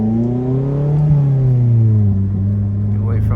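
A Mazda ND Miata accelerates hard on a mountain pass road, its engine note climbing steadily in pitch from close inside the cabin, a continuous loud drone with rising harmonics and a brief dip as it shifts.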